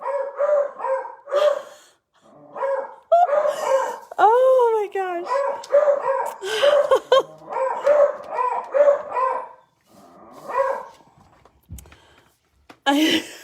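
Several dogs bark and yip in quick bursts, close and loud, with a howl-like whine mixed in and a person speaking over them.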